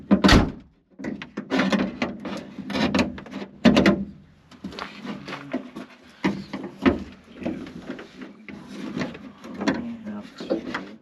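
A Vanagon van door is wrestled back into place, giving irregular clunks, thumps and rattles of metal panel and hardware, with someone talking at times.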